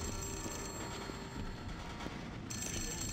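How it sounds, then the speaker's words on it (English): A telephone rings in the horror video game The Suffering: Ties That Bind, a faint, continuous electronic ring buried in a dense, noisy game ambience that runs steadily throughout, with no speech. "Ooh, the phone's ringing."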